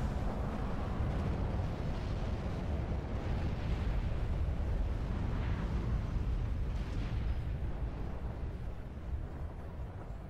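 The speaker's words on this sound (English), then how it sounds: "of course now the building goes down in flames and explosions" A building in the strategy game World in Conflict collapses in flames amid artillery explosions, a dense sustained rumbling roar with muffled booms and crackling debris layered over one another, fairly faint and continuous with no voices.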